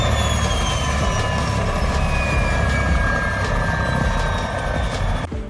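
Turbocharged Ford BA car engine revving at length, a continuous loud whine with rising and falling turbo tones that sounds like a helicopter, close and steady before cutting off near the end.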